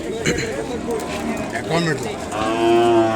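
Ongole bullocks at the Kodad cattle market, a long rising moo near the end over crowd noise and nearby talking, with other animal sounds and market bustle around.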